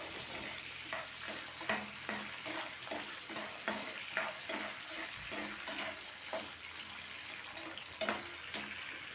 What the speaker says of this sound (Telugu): ఇంకా పోపు వేగింది.